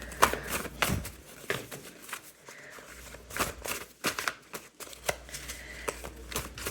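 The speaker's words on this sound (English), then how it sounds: "I have to split the deck up so it doesn't like fly everywhere when I shuffle" A split deck of cards is shuffled in a series of short riffling bursts and soft taps, close and fairly quiet, with no talking.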